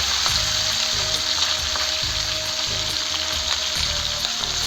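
Tangra fish frying in hot oil, flipped over in the pan: a steady loud sizzle with rhythmic scraping and clinking knocks of a spatula against the pan.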